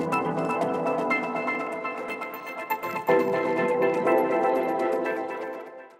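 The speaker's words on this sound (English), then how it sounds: "I have here a little loop with a soundscape and it sounds like this" A dense electronic soundscape loop from a Modalics Beat Scholar plays alone, a thick sustained wash of layered tones and textures with a brief dip midway before swelling again, fairly quiet and steady throughout.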